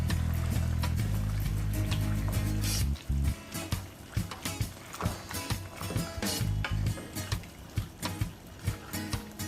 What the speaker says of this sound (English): Now I will go ahead and stir.